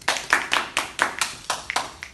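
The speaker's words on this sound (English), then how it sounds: "Let us give her a round of applause." A small class claps as a round of applause for a student, with a few sharp, close hand claps in a quick, slightly uneven rhythm over about two seconds.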